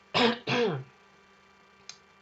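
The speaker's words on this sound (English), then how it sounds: "let me clear my throat" Two gruff throat-clearing rasps in quick succession, close and fairly loud, followed by quiet and a faint click.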